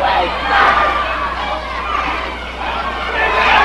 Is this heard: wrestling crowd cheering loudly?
yes